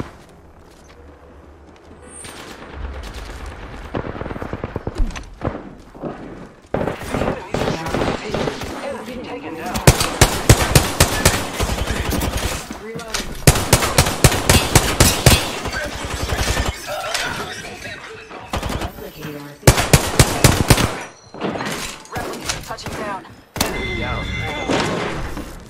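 Bursts of automatic and single gunfire in the Apex Legends battle royale game, playing as Rampart, come in rapid volleys through the middle, loud and close, with reloads between and callouts spoken over the shooting.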